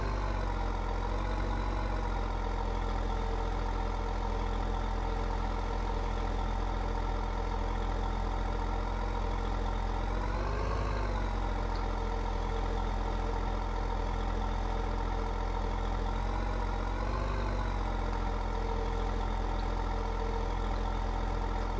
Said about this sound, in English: The sound of this tractor is just absolutely amazing.